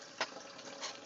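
Wort from the first runnings draining out of a mash tun during an all-grain ale brew, a steady close splashing trickle of liquid with a couple of brief louder gushes.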